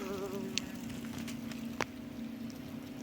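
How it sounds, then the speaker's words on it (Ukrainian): Insects swarm at an underground nest on a forest floor, giving a steady close droning hum with a faint high whine over it. No talk is heard. "Дивіться, який вулик. У землі вони там так двіжують."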